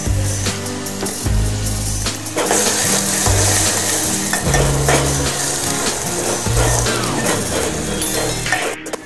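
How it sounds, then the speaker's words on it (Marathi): Marathi tadka of fenugreek seeds, asafoetida, curry leaves and ground masala sizzling loudly in hot oil for a kadhi, with a spoon stirring and scraping the pan in repeated strokes, no talk. "आपली फोडणी चांगली खरपूस झालेली आहे."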